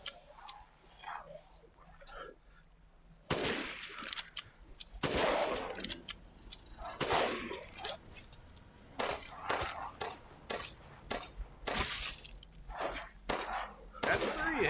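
Separate loud gunshots ring out in Resident Evil 8, about a dozen sharp reports spaced irregularly after a quiet start, with someone talking in between.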